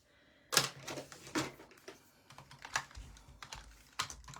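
Irregular bursts of keystrokes tap on a computer keyboard nearby, quiet clicks in uneven clusters with short pauses between, no voices over them.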